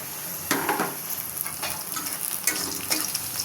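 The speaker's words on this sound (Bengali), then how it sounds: "এখানে পেস্টটা হালকা ভাজা হয়ে গেছে" Spice paste for a country chicken curry fries in a pan with a close, steady sizzle, broken by several short scraping stirs at irregular moments, with no voice.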